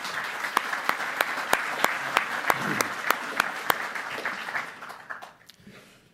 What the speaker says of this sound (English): maybe just take a minute to a round of applause for them.